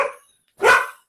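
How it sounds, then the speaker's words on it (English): A dog barks twice indoors, a short sharp bark followed after a gap by a louder, fuller one, close by with no talk over it. "Although the dog's barking."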